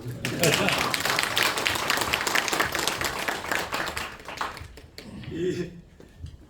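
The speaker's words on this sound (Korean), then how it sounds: "박수 한번 쳐주십시오" Audience clapping at a Korean lecture on love and Plato's Symposium, a dense burst of many hands that holds steady for about four seconds and then thins out, with a voice speaking faintly beneath and after it.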